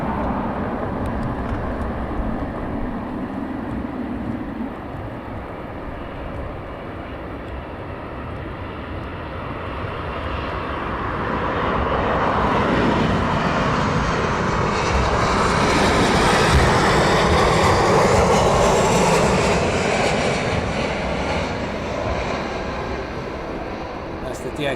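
A DHL aircraft departs at night from East Midlands Airport, its engine roar swelling from a distant rumble to a loud peak and then easing off, with a voice heard faintly under it.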